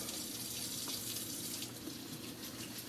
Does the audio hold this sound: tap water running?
yes